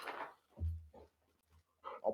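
A dog grunts in a few short low huffs and snorts close to the microphone, separated by brief quiet gaps, with a faint whine-like sound at the end.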